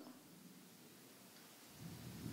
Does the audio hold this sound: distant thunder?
yes